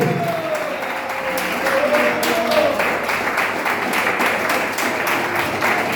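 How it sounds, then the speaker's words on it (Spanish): Church congregation applauding together, a steady wash of dense clapping that fills the room and holds at an even level throughout, with a faint voice briefly audible early on. "Aplauda si le va a aplaudir,"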